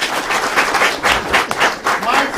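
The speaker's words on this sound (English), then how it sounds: "Mighty applause for the contestants." An audience at a university statistics quiz contest claps loudly for the contestants in a dense, continuous round of applause that swells and holds throughout.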